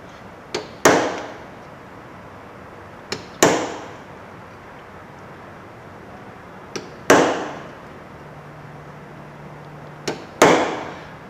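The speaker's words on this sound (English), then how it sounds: "So we'll start center punching" Center punch struck by hammer into a metal gimbal ring to mark bolt holes, giving sharp metallic strikes in pairs, a light tap then a hard blow, repeated four times at steady intervals with quiet between.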